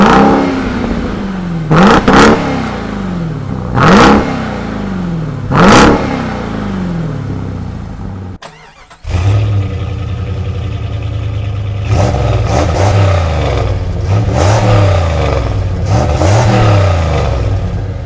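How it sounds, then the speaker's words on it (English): Two Jeep Grand Cherokee V8s, a supercharged TrackHawk and a 5.9 Limited, rev in turn: loud, close blips rise and fall in a steady rhythm, a brief gap, then a deeper engine revs repeatedly over a throaty idle. "it'd be rude of me to talk about these V8s without letting you hear them"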